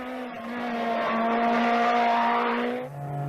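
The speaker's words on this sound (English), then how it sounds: "A Lancia Delta S4." Lancia Delta S4 rally car engine at a Pikes Peak hillclimb, a loud sustained roar with a steady harmonic drone held for about three seconds before the pitch drops sharply as the engine backs off.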